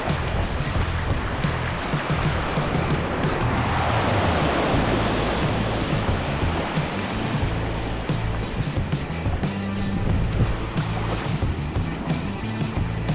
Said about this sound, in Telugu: ఫ్లాట్గా ఉంది సముద్రం.